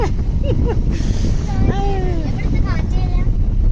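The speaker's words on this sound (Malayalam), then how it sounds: "എന്തോരു തണുത്ത കാറ്റാണ്" Steady cold wind rushing across the microphone in a broad roar in Wayanad, with a few faint high tonal chirps over it and no talking.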